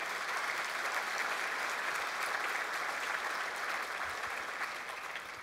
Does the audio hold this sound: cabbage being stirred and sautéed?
no